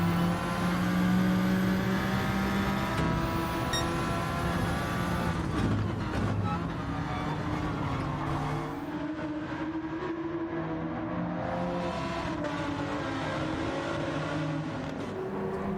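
Race cars battle for position in an online sim racing league game, a steady engine drone with shifting revving tones throughout, cars passing on the inside of a turn.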